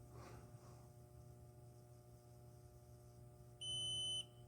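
A MicSig oscilloscope gives a single steady electronic beep, about half a second long, when its software is exited, clear over a quiet electrical hum with no one talking.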